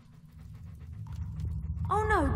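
A dog in Fable II pants in quick, rhythmic breaths close up, ending in a brief whimpering whine.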